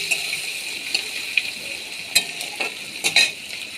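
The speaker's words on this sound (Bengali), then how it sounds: "পেঁয়াজ কুচিটা দিয়ে দিলাম।" Chopped onion sizzling in hot oil in a pan, a steady broad frying hiss with occasional sharper crackles and pops, close and continuous, no voices.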